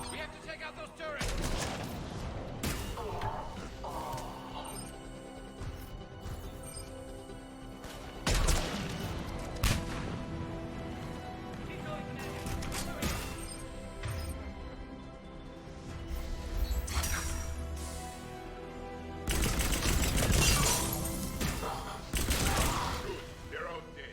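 Sustained sci-fi gunfire against enemy turrets in the video game Mass Effect 3, with dense rapid bursts, heavy impacts and crashes nearly throughout and louder volleys near the end.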